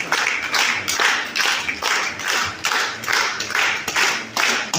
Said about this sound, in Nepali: हामी ताली बजाउनेछौँ।